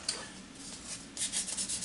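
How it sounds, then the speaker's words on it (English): A new charcoal stick is rubbed on a piece of sandpaper to shape it, making a faint, close scratchy rasp that grows into a few quick strokes toward the end. "This is what the sandpaper's for. It's for polishing these new charcoal sticks"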